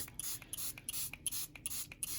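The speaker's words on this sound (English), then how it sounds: "Again, I'm spraying it" Short hissing bursts of a hand spray bottle misting water over sprouting seeds, about a dozen quick squirts in an uneven rhythm, close and fairly faint, with no talking.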